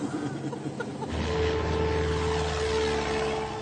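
A small propeller airplane engine drones near the Baie de Somme, a steady hum that grows louder and fuller after about a second and then holds constant, with no voices.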